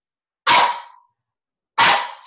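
A dog gives two loud, sharp barks close by, each a sudden burst fading quickly, separated by about a second of silence.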